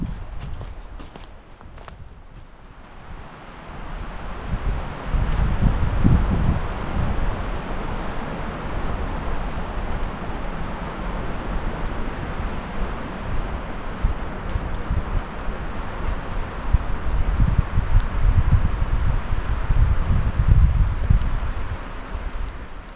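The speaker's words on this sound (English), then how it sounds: "It's rainy, it's windy, it's a little cold today." Steady outdoor wind buffets the microphone on a cold, rainy day with rushing, rumbling gusts and a rain-like hiss, with footsteps thudding now and then; no talking.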